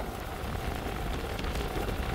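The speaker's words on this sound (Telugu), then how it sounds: "వర్షం రావడం గట్టిగా స్టార్ట్ అయింది" Steady, dense rain hisses loudly and evenly throughout, with no pauses or voices.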